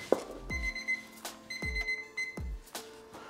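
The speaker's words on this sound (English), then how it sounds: "that timer right there was for the rice" A kitchen timer set for rice on the stove rings in four sharp metallic bursts at roughly one-second intervals, each with a bright ringing tail, close and clear with no voices.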